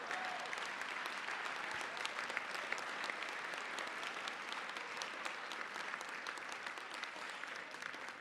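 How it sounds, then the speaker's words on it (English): Sustained applause from a seated audience at a family roast honoring Dr. Ed Benz Sr., a dense, steady patter of many hands clapping that holds evenly loud for the whole stretch without voices on top. "let's have a round of applause for my grandfather,"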